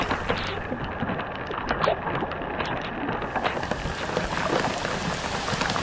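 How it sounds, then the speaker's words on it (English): Steady rain falling outdoors near the Choctawhatchee, a dense continuous patter of drops with sharper close hits, heard alone without talk. "It's raining."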